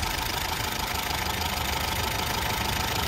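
A used car's engine idles with its hood open at a busy used-car market in Osh, a steady close mechanical rumble with a fast, even ticking running throughout.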